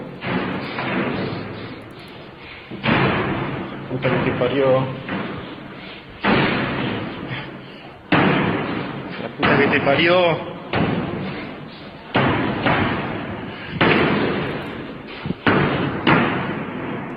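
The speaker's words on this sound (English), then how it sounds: "But that's the slamming noise that he's hearing." Heavy door slams repeatedly, loud and near, each a sharp broadband thud at irregular intervals of about a second or two, with a voice swearing in Spanish between them.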